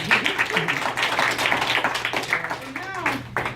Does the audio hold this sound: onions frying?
no